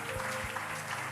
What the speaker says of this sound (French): Acclame bien, pousse des cris de joie.